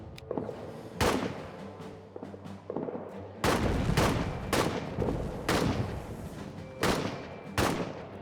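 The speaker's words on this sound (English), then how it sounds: "Get some suppression fire on the go." Suppression gunfire in the trench warfare game All Quiet in the Trenches, a series of loud rifle shots and bursts cracking one after another with echoing tails, growing denser midway and continuing in spaced volleys.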